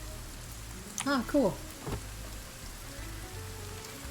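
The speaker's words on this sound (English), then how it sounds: "Hey, it's raining." Rain falls in the survival video game Sons of the Forest, a soft, steady hiss of drops running throughout at low level, with a person speaking briefly over it.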